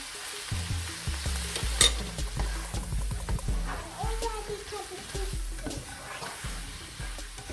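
Bell peppers and turkey steak cooking in a pan with a splash of water added, giving a steady sizzle with frequent stirring scrapes and knocks close by.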